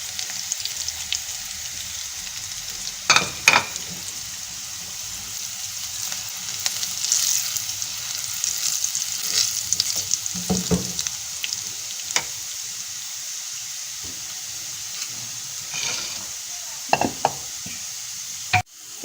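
Garlic fries in hot oil in a pan while moong masoor daal is being made, giving a steady, soft sizzle across the whole clip with occasional louder clinks and stirring scrapes.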